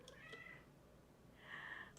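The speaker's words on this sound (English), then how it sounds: "Oh my god, that cat." A cat gives two drawn-out meows in quick succession, the second louder and longer, set against a faint, steady background hum with no talking.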